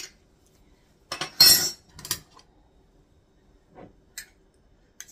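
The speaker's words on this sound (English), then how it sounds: "Let's give that a little bit of a stir." Home canned sausage gravy is stirred in a pot, giving a few close clinks and scrapes of a utensil against the pan in short bursts separated by quiet pauses.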